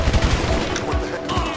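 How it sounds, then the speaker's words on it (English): Rapid gunfire from a Grand Theft Auto match fills the clip in dense, continuous bursts of shots, mixed with game sound effects, and a voice is heard briefly over it. "Oh god, who's shooting?"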